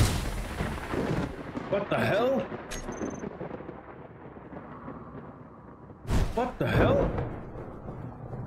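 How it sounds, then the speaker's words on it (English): Thunder from a lightning storm rolls through The Colonist video game. There are heavy booming cracks near the two-second mark and again around six seconds, with rumbling in between, while a startled voice exclaims over the storm. "Lightning storm!"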